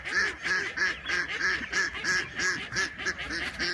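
A chorus of ducks quacks continuously in quick rhythmic bursts, loud and close, several birds overlapping.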